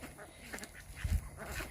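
Ducks honk and quack at close range in a farmyard pen, giving a few short nasal calls over quiet background noise, with no talking.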